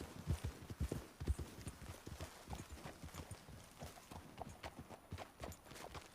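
Horses in Red Dead Redemption 2 walk on the ground, a steady close clip-clop of hooves, uneven and overlapping, at moderate loudness with no talk over it.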